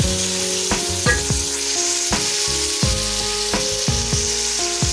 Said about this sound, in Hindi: मैं इसे 2 से 3 मिनट फ्राई कर लूँगी, ताकि ये अच्छी तरह भून जाए और टमाटर सॉफ्ट हो जाए